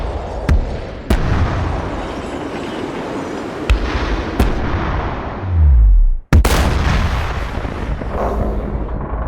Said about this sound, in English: made some explosion sounds from Final Fantasy VII